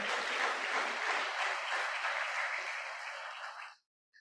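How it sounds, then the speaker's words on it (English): Audience applause at a presidential lecture series event, a dense, even wash of many hands clapping at moderate volume that runs for nearly four seconds and then stops abruptly. "please once again give a round of applause for her"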